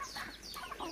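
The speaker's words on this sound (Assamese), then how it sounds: "মুৰ্গী" Domestic hens cluck in short, close bursts at a rural home, a brief burst of bird calls with no talk over it.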